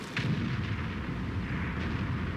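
Tank cannon shots in World of Tanks, heavy booming reports with rolling low-end rumble, one sharp blast near the start and another fainter crack later, over continuous battle ambience.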